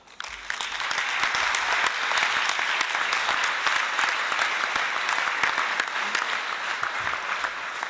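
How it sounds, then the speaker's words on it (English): An audience at an SDSU Georgia event applauds students in a dense, steady wave of clapping that swells quickly and holds loud throughout. "give them a round of applause"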